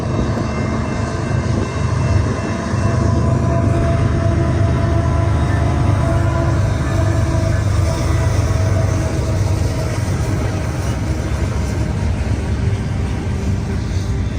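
CPKC freight train 113, led by KCS locomotives, passes close by with a heavy, continuous low drone and rumble. A faint tone drifts in briefly partway through.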